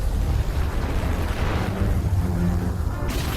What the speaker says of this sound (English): The explosion shatters calm.